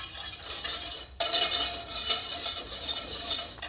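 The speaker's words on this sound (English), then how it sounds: "Whisk that up nice like my dad used to say" A whisk beating sugar, cornstarch and salt together in a bowl, quick metallic scraping and clinking against the sides, briefly stopping around the first second before resuming steadily, no talk.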